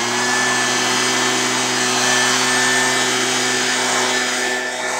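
A leaf blower runs continuously during lawn care and junk removal, a loud, close, steady roar with a constant pitch that holds unbroken throughout.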